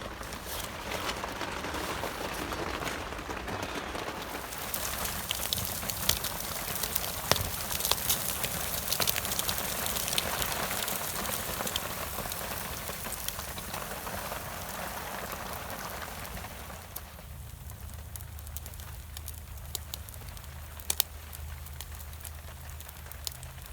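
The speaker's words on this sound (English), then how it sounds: "there's been a lot more rain overnight this morning" Steady rain patters down on surfaces outdoors at a forest debris camp, a broad continuous hiss with occasional louder drops, fairly close and without any talking.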